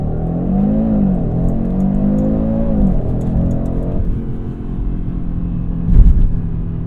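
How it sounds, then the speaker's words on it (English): A 2022 Audi RS3 engine revs high and holds on launch control with brake and throttle both pressed, a loud, steady droning note that rises and dips before settling into a rumbling idle, ending in a brief thump. "you can hear the engine, it revs up quite a bit"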